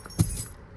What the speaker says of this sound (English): Grab your keys.